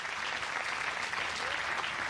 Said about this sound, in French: On l'applaudit parce qu'il est arrivé quand même.